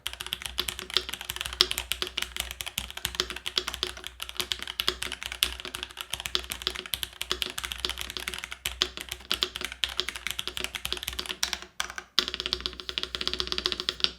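Rapid, continuous typing on a Varmilo Minilo mechanical keyboard, close and crisp, with dense overlapping keystrokes and a brief pause near the end before the clacking resumes.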